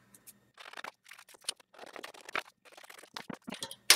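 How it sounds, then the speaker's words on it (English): Scissors snipping out paper squares for paper flowers, a series of short close crisp cuts in uneven bursts, quiet and without talk. "Let's cut out these squares."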